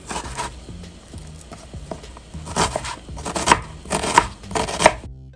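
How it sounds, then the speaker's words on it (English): A knife dices onions on a cutting board in a home kitchen, with a run of quick light taps followed by several louder, sharper chops close up, then it stops. "We're going to dice these onions on up."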